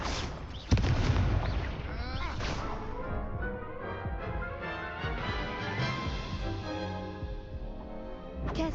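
Incendio fire spell cast in Hogwarts Legacy, a sharp blast erupting near the start into a dense, roaring burst of magical effects that sustains loudly over layered game sound for the rest of the clip.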